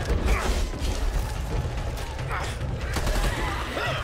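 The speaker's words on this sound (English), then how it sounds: "Reloading." A weapon reloads in the co-op zombie shooter Back 4 Blood, with mechanical clacks and ratcheting over dense game gunfire and battle noise, while voices talk over it.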